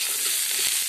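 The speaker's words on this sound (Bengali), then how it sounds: "ভালো করে ভাজিয়ে নিব" Food fries in a pan while being stirred, making a continuous bright sizzle with soft scraping stirs, close and steady, with no talking.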